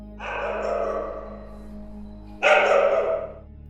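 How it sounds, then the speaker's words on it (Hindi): Two drawn-out, breathy dog barks, one after another, the second louder and sharper, close by and without talk. "कुत्ते की भौंकने की आवाज रास्ते में गूंज रही थी"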